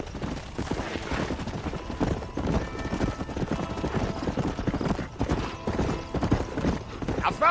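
Horse hooves clip-clop at a steady gallop in the Red Dead Redemption western game, loud and close throughout, with speech-like game sounds, a brief whinny and faint distant gunfire mixed in.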